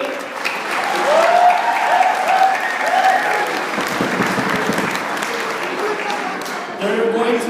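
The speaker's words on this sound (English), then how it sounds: "let's give a round of applause to our top 8" Audience applause at a tribal college poetry slam, a steady wash of many hands clapping that fills the room at even loudness throughout, with a few voices and cheers mixed in.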